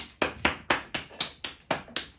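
Hand clapping, about nine sharp claps in a steady, even rhythm, close and fairly loud, with no talking.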